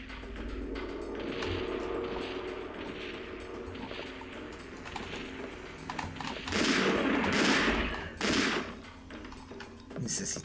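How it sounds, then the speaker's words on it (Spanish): Gunfire in the Dino Crisis 2 video game rattles in rapid bursts and single shots, mixed with game thuds and roars, fairly quiet overall. "Necesitamos darle otros disparos más para poder eliminarlo."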